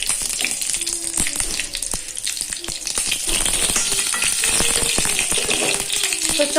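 Ghee sizzles and spits in a hot pan while pulao is being made on a gas stove. A bright steady hiss carries many sharp crackling pops and a few soft clinks close by.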